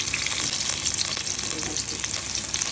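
Garlic sautés in a pan for a Madurai-style fish curry, a loud, continuous oily sizzle with light stirring scrapes and no speech.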